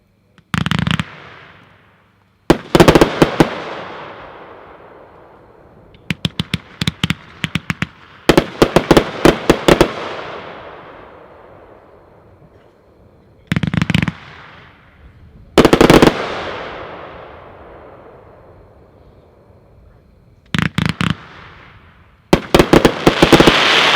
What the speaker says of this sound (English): Number 11 is the 500-gram finale boxes by 76 Pro. These are packed 4-1 and are 12 shots.